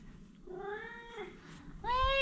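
A house cat meows at home on a rainy day, giving two distinct, close meows: a longer drawn-out one first, then a brief pause, then a sharper, louder second call at the end.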